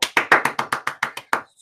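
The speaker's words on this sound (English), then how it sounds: "you are going to clap at as much as you can to make as loud a noise as you can" Children at a school assembly clapping as loudly as possible: about nine sharp, evenly spaced claps, close and loud, stopping abruptly.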